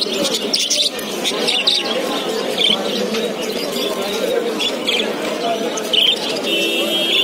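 Caged birds, including pigeons and doves, at the Friday bird market in Mirpur 1, where dense chirping, tweeting and cooing fill the air continuously and loudly, with human voices mixed in.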